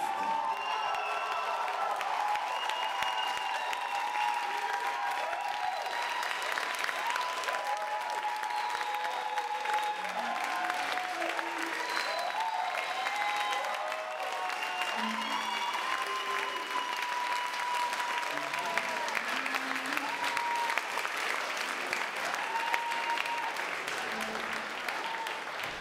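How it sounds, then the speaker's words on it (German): An audience at a poetry and jazz slam in a bar breaks into sustained, dense applause that lasts throughout, with scattered whoops and voices mixed into the clapping. "Euer Applaus"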